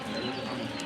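Birds at a farm cooing softly in a brief, faint moment, pigeon or dove-like calls under a steady hum of background noise.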